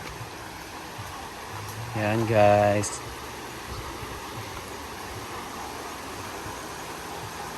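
A river in the rural Philippine province runs as a steady broadband rush of flowing water. A voice briefly speaks over it near the middle.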